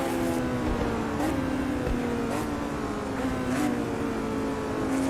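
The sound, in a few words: race car engine revving high in the video game Automobilista 2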